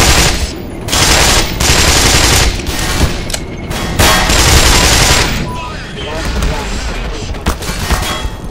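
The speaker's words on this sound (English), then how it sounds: "There's a tank firing at me." A tank fires on the player in the shooter game Black Mesa, loud rapid bursts of gunfire and blasts in close succession, with short pauses between volleys.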